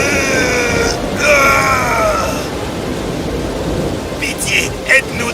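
A violent thunderstorm with rain at sea: heavy, continuous rain hiss and deep rolling thunder throughout, loud and close, with a voice speaking over the first part of the storm.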